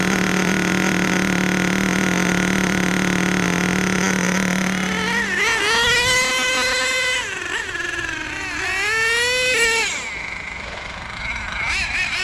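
An HPI Savage nitro RC truck engine whines loudly and steadily, then revs up and down in sharp, high-pitched bursts, running close by after a starter drone.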